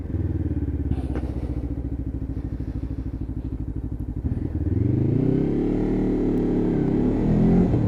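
A Lexmoto LXR 380cc motorcycle is ridden on the road, its engine thrumming with a steady close pulse before the revs climb into a smoother, louder drone.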